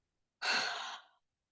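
A person lets out a single breathy yawn-like exhale, close and fairly loud, starting abruptly and trailing off after nearly a second, with silence around it.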